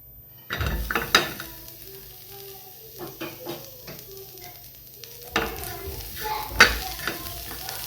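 Bitter gourd roasting in a hot pan on a gas stove gives a steady sizzle, with several sharper scrapes and clinks of stirring scattered throughout, close by and moderately loud, with no voices.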